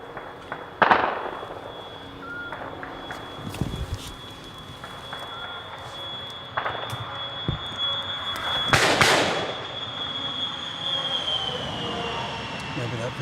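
Scattered gunfire at the front line in Ukraine, with a few sharp shots and cracks, some near and some distant, over a steady outdoor background with a high whine, plus brief speech.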